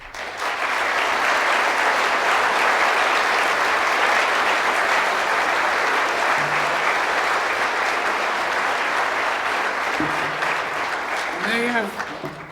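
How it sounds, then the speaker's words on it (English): Sustained applause from a large crowd fills a City Hall room at a political campaign launch, steady and loud throughout before tapering off at the end, with a voice briefly audible. "give them all a round of applause"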